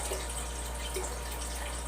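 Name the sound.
water being poured into a container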